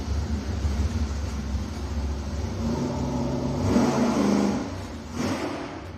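Thousand-horsepower naturally aspirated engine fitted with lightweight components, revving on a dyno during a 300 RPM-per-second pull; a moderate, steady engine whir builds and swells toward the middle, heard alone without talk.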